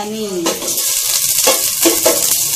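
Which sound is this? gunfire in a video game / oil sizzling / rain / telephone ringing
oil sizzling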